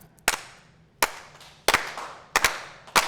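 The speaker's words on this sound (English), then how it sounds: "and then we'll start to slow clap." A group on a video call claps slowly in unison during a youth conference, sharp isolated claps landing roughly every 0.7 seconds, each followed by a brief scatter of slightly out-of-sync claps.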